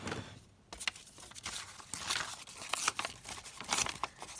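Paper being torn and crinkled to make grungy journal cards, a quiet close-up series of irregular rips and rustles with short gaps between them.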